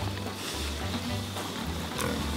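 Pigs on a Swedish farm grunt and snort repeatedly up close, a loose series of low rhythmic grunts with a few louder squeals and some background movement.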